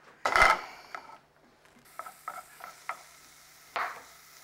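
Mushrooms and onions sautéing in a pan, with a loud burst of sizzle at the start followed by quieter scrapes and several short taps of a utensil against the pan.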